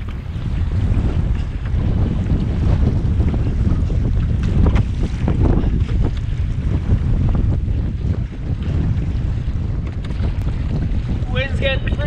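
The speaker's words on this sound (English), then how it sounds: "Wind's getting pretty bad" Strong wind roars outdoors on a wilderness fishing trip, buffeting the microphone in a loud, constant rush with water wash beneath, lasting throughout with no clear speech.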